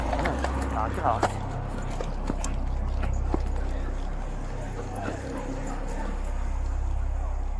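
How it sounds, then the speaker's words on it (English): Police canine units bark at a crime scene: a handful of sharp barks come in a cluster early on, then fade under a steady low rumble and murmuring voices. "Multiple canine units have also been brought to the scene."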